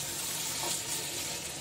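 Mutton pieces frying in masala for a mutton stew, giving a steady, close, dense sizzle that holds evenly without pauses and with no talking.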